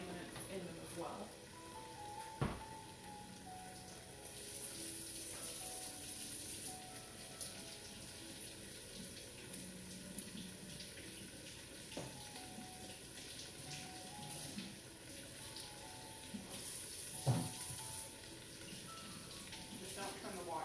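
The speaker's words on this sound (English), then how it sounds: "Just don't turn the water on very hard because it could like destroy your mushrooms." Tap water runs steadily from a kitchen faucet as mushrooms are rinsed under it, a soft continuous splashing broken by a few sharp clinks and knocks at the sink.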